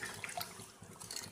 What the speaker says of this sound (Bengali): জল দিয়ে দেবো, দেখো হালকা পরিমাণে, আমি সর্ষেটা একটু পাতলা করে করবো।